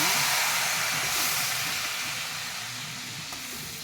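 Ground adamant creeper (pirandai) paste fries in oil for a thuvaiyal, a loud steady hiss that slowly fades, with no talking.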